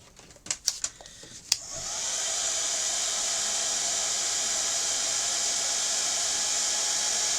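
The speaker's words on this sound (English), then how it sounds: "I'll give it a little bit of a blast with the heat gun." After a few clicks and taps, a heat gun switches on and blows hot air in a steady, close, even rushing hiss that holds to the end.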